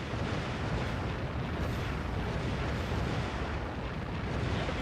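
Naval guns in Warship Gunner 2 fire without a break at tough enemy carriers, a dense, continuous roar of booming blasts and explosions that keeps up the whole time with no clear pauses.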